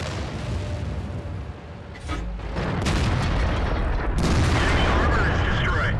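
Tank cannon fire and explosions in World of Tanks, including artillery: heavy booms and blasts over a constant rumble, growing louder toward the end, with a voice speaking over part of it.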